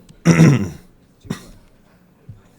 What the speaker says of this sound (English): Let me clear my throat a little bit.